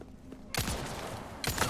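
A grenade blast from the Resident Evil 4 Remake rips through the game's soundtrack, a sudden loud broadband boom after a quiet moment, followed by a second burst of crackling debris near the end.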